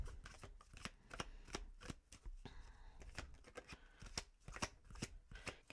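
A deck of tarot cards is shuffled close up in quick, crisp riffles and rapid flutters that keep going the whole time, quiet overall with no talking.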